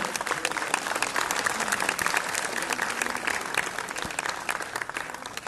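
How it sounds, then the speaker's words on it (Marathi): An audience at a children's dance and modeling show gives loud, sustained applause for the runner-up, a thick, crackling wash of clapping that holds steady from start to finish. "जोरदार टाळ्या उन्नतीसाठी सर्वांनी एकदा वाजवायच्या"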